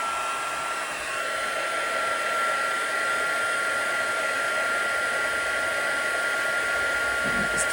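A heat tool blows continuously to melt embossing powder, giving a steady, close, airy whirring hiss like a hair dryer that holds at an even level throughout with no talking.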